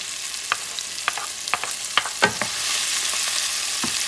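Garlic sizzles in a pan for a barley and rib stew, with a steady hiss broken by several sharp stirring scrapes and clicks close up.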